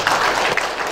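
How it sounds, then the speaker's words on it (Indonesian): Church congregation at a worship service giving a brief round of applause, a dense, steady clatter of clapping lasting about a second. "Berikan tepuk tangan."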